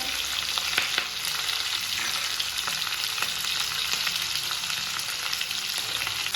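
Potatoes and drumstick pods frying together in a pan for South Indian sambar crackle in a dense, loud, continuous sizzle, with a few faint stirring scrapes and no talking.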